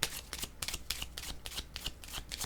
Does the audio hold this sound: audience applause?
no